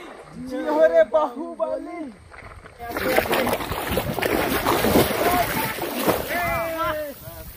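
A boat on a river for a fishing trip moves into the water with a broad rushing splash and slosh that continues steadily, between stretches of people talking nearby.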